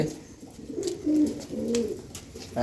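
Desi pigeons in a loft give soft, throaty coos, two or three rolling phrases close by with no talking.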